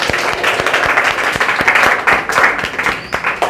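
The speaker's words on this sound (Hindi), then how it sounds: "एक बार मैम के लिए तालियां बजाइए आप लोग" Applause for a teacher at an Independence Day celebration in a coaching centre, loud close clapping with distinct individual hand strikes standing out from the crowd wash, steady for several seconds.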